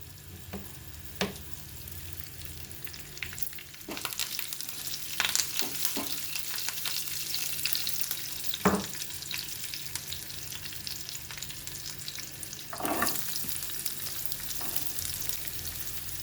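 Mustard seeds and curry leaves fry in hot oil with a steady, close crackling sizzle, broken by sporadic sharp pops and the scrape of stirring, no voices.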